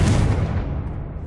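A Confringo fire spell blast in Hogwarts Legacy, one loud booming burst that hits at once and fades away over about a second, with no talk.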